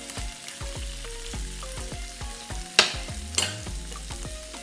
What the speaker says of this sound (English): Butter, I'll melt it.